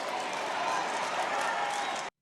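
A comedy show audience roars, with dense sustained cheering and applause that fills the room at steady volume and cuts off abruptly.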